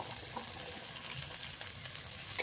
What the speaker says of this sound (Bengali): খুব ভালো করে মিশিয়ে নিয়ে প্রায় এক থেকে দু মিনিট আমি ভেজে নিই